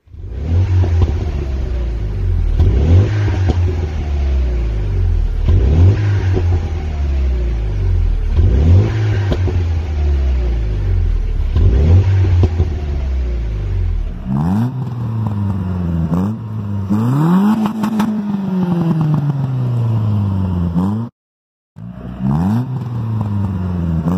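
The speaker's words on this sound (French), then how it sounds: "Et donc il a mis un petit silencieux OMP et elle a une admission directe. Donc bien évidemment, je vous mets le son des deux véhicules." Car engines fitted with an OMP exhaust silencer and direct intake revving hard, about five deep rising-and-falling throttle blips from one car, then a raspier, higher-pitched revving car with a brief cut; loud, close and without speech.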